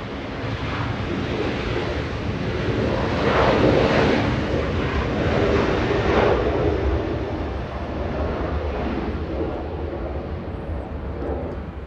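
A Boeing 737 jet airliner departs LAX, its engine roar washing in with a wind-like rush that peaks midway and then holds steady.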